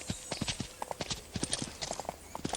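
Horse hooves clip-clop in a steady, brisk rhythm in a video game, each hoof strike crisp and close, with a faint musical or ambient bed underneath.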